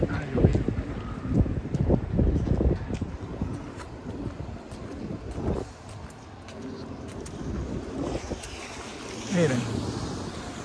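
Waves from the remnants of a passing hurricane wash and break in surging bursts at the Guánica boardwalk, Puerto Rico, with wind noise and a gusty roar rising and falling.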